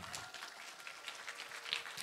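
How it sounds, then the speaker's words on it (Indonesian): Faint, distant applause from an audience at an education event, a steady patter of many hands lasting a couple of seconds with little speech. "Tepuk tangan dulu buat mercubuana dong"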